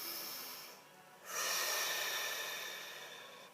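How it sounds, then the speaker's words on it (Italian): A deep breath: a short pause, then a strong, close inhalation that slowly tapers off as the air is drawn in, with no talking. "facciamo un bel respiro profondo"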